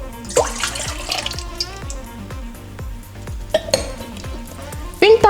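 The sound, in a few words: pouring milk and water into stand mixer bowl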